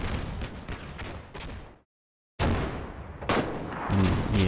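Sharp bursts of gunfire in Combat Mission Black Sea, rapid volleys and single cracks at close range, broken by a short silent gap before heavier firing resumes and continues to the end.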